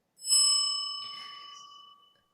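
A bright electronic notification bell chime rings once, holding steady tones that fade out over about two seconds, clear and alone with no talking.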